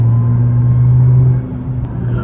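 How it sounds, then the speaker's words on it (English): A 900 hp Nissan R35 GT-R with straight-cut gears gives off a loud, steady drivetrain whine over engine rumble while driving on a snowy road, the tone dipping briefly before it returns. "just listen how nice the straight cut gears sound."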